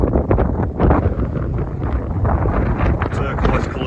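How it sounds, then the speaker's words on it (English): Loud, buffeting wind on a rough sea coast at Bettyhill, Scotland roars across the microphone in steady gusts, with a voice faintly mixed in underneath. "windy, man."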